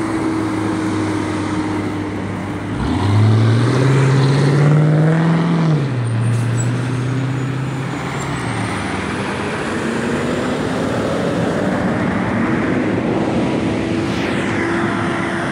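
A large semi-truck rumbles past on a road, its engine drone rising and sliding in pitch as it nears, then fading into a steady broadband roar of passing traffic, loud and close with no talk.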